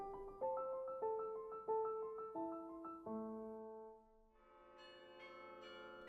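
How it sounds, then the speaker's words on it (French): Peace Tower carillon of 53 bells rings out a descending melody of separate struck notes, each clearly decaying, then a denser, shimmering wash of overlapping bell tones toward the end. "La tour abrite un carillon comprenant 53 cloches."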